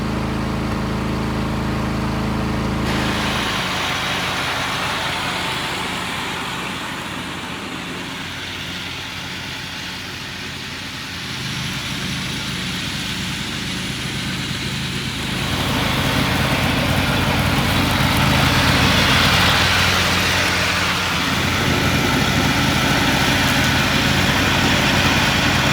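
An old John Deere riding lawn mower with a rusted steering wheel runs on grass. Its engine drones steadily up close, rising and falling in load over about twenty-five seconds, with no talk.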